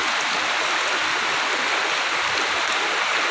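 Floodwater rushes through Koruthodu town in a steady, dense wash of flowing water, close and continuous with no break.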